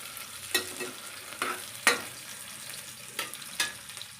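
Mint leaves fry in oil for kushka, a low steady sizzle broken by several spaced scrapes and knocks of a spoon stirring the pan, quiet and close.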